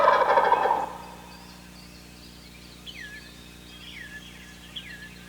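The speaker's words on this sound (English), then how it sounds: "Spring is the mating season, when the wild gobbler's call thunders through the woods." A wild turkey gobbler gobbles in a spring woodland, one loud rattling burst up close at the start, followed by fainter distant gobbles and calls echoing afterward.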